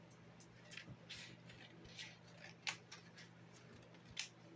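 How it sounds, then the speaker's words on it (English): Scissors snip a small piece of material while unboxing a mini cutting and embossing machine, with a few soft, quiet cuts and clicks over low room hum. "I'm just gonna cut a small piece"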